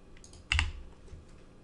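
A computer keyboard being typed on while entering a command-line curl query for Elasticsearch: a short burst of clustered key clicks around the middle, close and fairly quiet, with a faint tap or two afterward.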